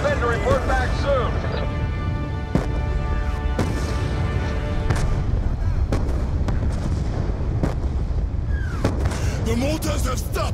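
Mortar fire in the video game Call of Duty: Black Ops 2, with heavy booms and sharp blasts over a dense rumbling battle bed, plus some voices amid the combat.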